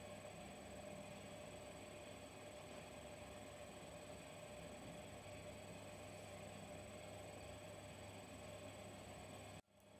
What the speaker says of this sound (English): If you can hear that humming in the background, that's my central heating.